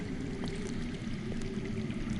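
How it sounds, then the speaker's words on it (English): Water flowing underground in the Game of Thrones game: a steady, low pouring stream, moderately loud and continuous, with faint higher splashes over it. "I hear water. From underground."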